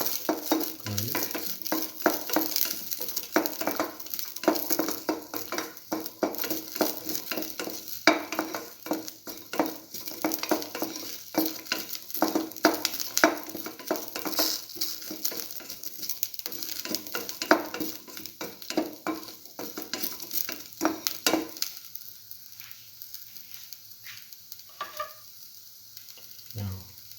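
Chili pieces, shallots and garlic sauté in a pan, a steady loud sizzle with frequent stirring scrapes for over twenty seconds before the frying quiets near the end.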